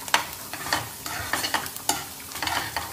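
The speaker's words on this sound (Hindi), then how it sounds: "ये है कांदा जो फ्राई हो रहा है, इसमें रेड रेड चटनी डाली हुई है हमने।" Onion frying in a pan with red chutney added, a steady soft sizzle with repeated scraping stir strokes at a fairly even rhythm, close and moderately loud, no voices.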